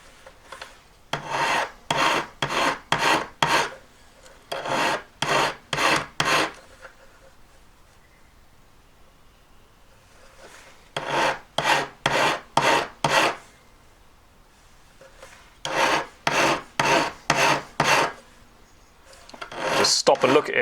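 Hand filing of a metal emerald cut bezel setting edge with a cut 2 file: close, crisp rasping strokes in quick bursts of four to six, separated by short pauses.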